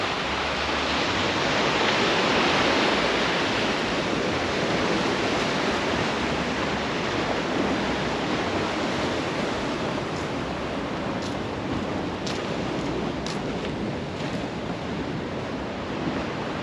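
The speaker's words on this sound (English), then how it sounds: "There's quite a lot of waves today" Ocean waves rolling in on a rough day at a beach in front of a coastal hotel, a loud, continuous broad roar of surf with wind buffeting the microphone, steady throughout and with no voices.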